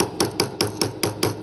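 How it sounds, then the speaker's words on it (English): Rubber mallet striking textured jewelry metal to flatten it, six evenly spaced blows, crisp and close, with no talking. "You can then switch to this rubber mallet"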